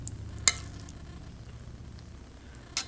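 Ramen stirred in a pot on a back burner gives a soft, steady bubbling sizzle with a couple of sharp clinks from the utensil against the pot, close and fairly quiet, no voices.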